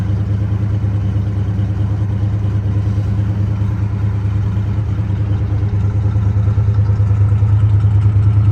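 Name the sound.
classic car engine exhaust idling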